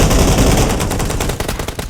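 Dense, loud gunfire rages in a shooter video game, with rapid automatic bursts blending into a continuous close-range barrage that barely lets up across the short stretch.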